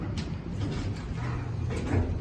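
An Otis traction elevator door at the Sheraton Kauai Resort in Poipu, Kauai, Hawaii slides shut over a steady low hum, with a soft thud near the start and another near the end.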